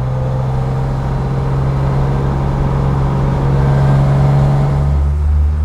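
A 1968 Maserati Mistral 4000 drives steadily on an open road, its engine a constant low hum with a deeper rumble swelling near the end, heard from inside the car with no voices.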